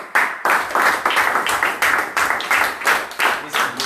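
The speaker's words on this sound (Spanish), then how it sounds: "Denle fuerte para un aplauso." A church congregation applauds in strong, rhythmic unison, with sharp claps landing on a steady beat roughly three times a second, loud and close.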